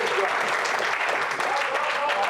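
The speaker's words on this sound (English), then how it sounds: "If you believe it, clap your hands unto the Lord." A church congregation claps its hands in worship, a brisk, dense patter of many hands that carries steadily for a couple of seconds, with voices mixed underneath.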